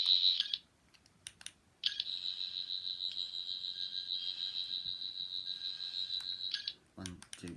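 A 14th Doctor sonic screwdriver toy gives a short electronic beep, then after a pause a long steady high-pitched warbling whine that holds for several seconds before cutting off, close and loud, with faint voice at the very end.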